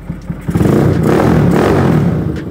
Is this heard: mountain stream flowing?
no